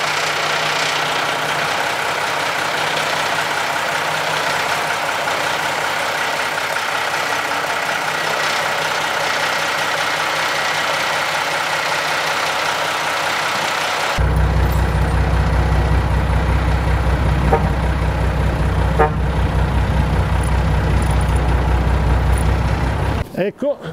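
A Unimog truck's diesel engine idles and rumbles steadily while reversing slightly to seat snow chains. The engine note grows heavier and more prominent partway through, and someone talks over it.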